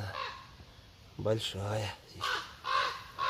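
Anxious parent birds near their young in a forest give several loud, harsh, raspy caws in uneven bursts, while someone speaks briefly.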